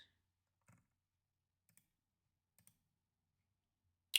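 Computer mouse clicks in a web page editor, a few faint isolated taps spaced out across the stretch, ending in one sharper, louder click.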